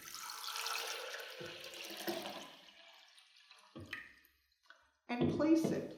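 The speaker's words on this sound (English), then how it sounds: "Add water." Water splashes and trickles into a vase for a flower arrangement built on a wire-bound armature, fading out before a voice speaks briefly at the end.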